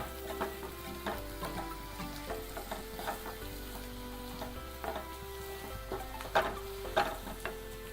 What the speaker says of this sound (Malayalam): മല്ലിപ്പൊടി, അതൊന്ന് മൂത്ത് വരുമ്പോഴത്തേക്കും മുളക് പൊടി ഇട്ട് കൊടുക്കാം